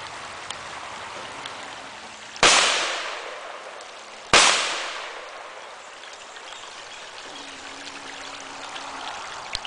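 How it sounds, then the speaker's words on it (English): A Mossberg 930 SPX tactical shotgun fires two loud, sharp blasts about two seconds apart outdoors at a target, each report ringing out and decaying, with quiet ambient noise between and after. "we're going to just show how tight it patterns on the target and shoot a couple of shots into it"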